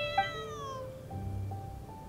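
A cat in the game Genshin Impact gives one clear, drawn-out meow that slides downward in pitch, followed by quieter faint tones, with no talking.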